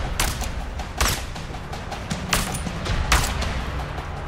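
Gunfire from an ambush in the video game A Way Out: several sharp, loud shots at irregular intervals, roughly a second apart, cracking over a rumbling background.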